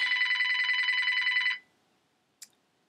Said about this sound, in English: And there's the phone, but I'm going to talk through it.